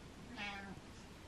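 A single short cat meow, close and fairly clear, rising and falling over about half a second against quiet room noise.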